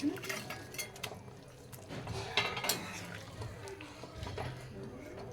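Fried fish pieces are tipped into a cooking pan for a potato and pointed gourd fish curry, giving repeated metallic clinks and clatters of pan and utensil with a soft voice now and then.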